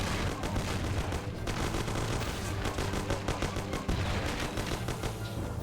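Rapid, continuous gunfire from several weapons during an ambush in the video game Mafia: The City of Lost Heaven, dense overlapping shots and bursts that go on without a break.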